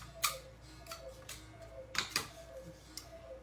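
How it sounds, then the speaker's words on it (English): A cuckoo clock ticks steadily and faintly in a quiet room, its soft regular clicks evenly spaced with no other sounds. "my cuckoo clock is way off, isn't it?"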